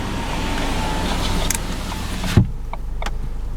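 Interior of a 2015 Ford Kuga Zetec on a test drive, with a steady low road and engine rumble running throughout, a brief thump near the middle and a few faint clicks.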